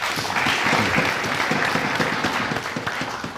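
Audience at a café show applauds a princess guest, dense continuous clapping at steady volume with some voices mixed in.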